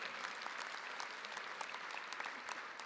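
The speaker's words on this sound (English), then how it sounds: "You can clap for that too" Audience applause at a 2020 graduates' make-up commencement ceremony for UC Davis, a steady, dense wash of clapping from a large crowd, fairly distant and even throughout.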